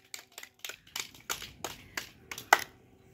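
Children clapping their hands together, about eight sharp claps in a loose, slightly uneven rhythm, close and clear with short silences between them and no talking.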